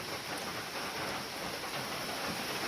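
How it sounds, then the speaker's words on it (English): Heavy rain pours down in a constant, broad hiss, unbroken and close, with no voices. "So it's still raining and sunning."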